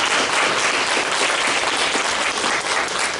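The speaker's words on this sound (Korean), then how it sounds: "박수 부탁드리겠습니다" Steady, dense applause from a large congregation at a church service, sustained and even throughout after a prize winner is announced.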